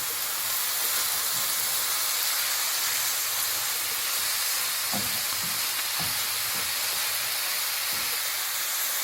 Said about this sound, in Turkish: Bir miktar kavrulduktan sonra bir kase bezelye dahil ediyoruz.